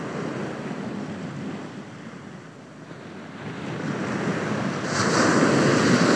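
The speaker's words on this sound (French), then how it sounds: "Et je sens le vent sur mes joues" Wind blows in a steady, broad outdoor roar that dips slightly midway and then swells louder toward the end, alone with no voices.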